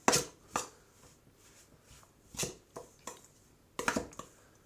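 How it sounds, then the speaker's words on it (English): Rock cake dough being mixed by hand with a little milk, a series of scattered soft squelching and scraping strokes with pauses between them, close and fairly quiet. "I'm going to mix that together."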